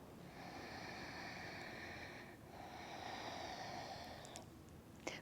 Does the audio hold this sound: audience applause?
no